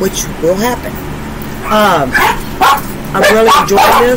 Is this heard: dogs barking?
yes